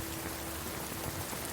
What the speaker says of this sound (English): listening to the pelting of the rain